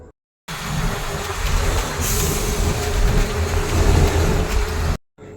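Steady, loud engine rumble and road roar from inside a moving city bus in Kolkata during Durga Puja, continuous for several seconds before cutting off abruptly, with no talking.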